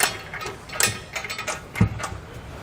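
A bolt is threaded by hand into the frame holes of a Curt trailer hitch receiver on a 2021 Genesis GV80, giving sharp metallic clicks and ratcheting scrapes in irregular bursts, close and moderately loud, with no talking.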